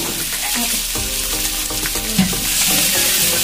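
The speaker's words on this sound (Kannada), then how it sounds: "ಒಗ್ಗರಣೆ ಹಾಕೊಳ್ಳೋದು ಹಾಕೊಂಡು ಇರುಳಿ" Tempering for village-style khichdi, with curry leaves and chillies dropped into hot oil, sizzling and crackling continuously as a spoon stirs and scrapes the pan, close and fairly loud with no talking.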